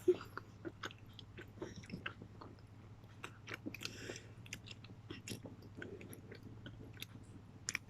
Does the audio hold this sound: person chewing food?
yes